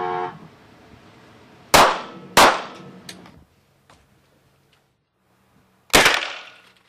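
Three loud, sharp gunshots from German federal police weapons at a training range, a quick pair followed by a single shot after a pause, each ringing out and decaying in an otherwise quiet space.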